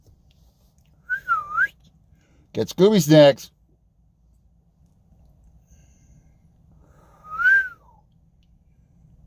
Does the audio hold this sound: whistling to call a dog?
yes